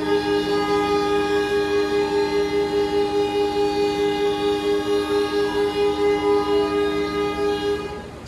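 A CC203 diesel locomotive in Indonesia sounds a very long signal 35 horn blast, a steady multi-tone blare held loud and unbroken for about eight seconds before it cuts off.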